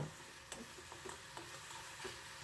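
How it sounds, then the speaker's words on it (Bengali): A spice paste with Kashmiri red chilli powder and a splash of water fries gently in a pan on a very low flame, giving a faint hiss broken by soft, periodic taps of stirring. "সামান্য জল দিয়ে এবার একদম লো ফ্লেমে মশলাটা কষে নেব"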